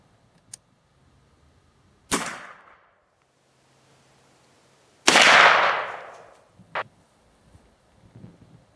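A 450 Bushmaster rifle fires Accutip rounds outdoors into a penetration test. Two sharp, loud reports stand out in a quiet setting, the second with a longer, rolling decay, and small clicks and knocks fall between them.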